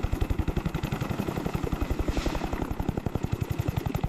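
A helicopter flying over the ocean during a rescue, its rotor beating in a steady, fast, loud chop that dominates throughout, with no voices.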